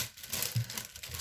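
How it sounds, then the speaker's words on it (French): Brief, close crinkling and scraping as scissors cut small pads from a soft foam sheet, a few quick rustly strokes. "Désolée pour le bruit, je vais me couper deux petites mousses."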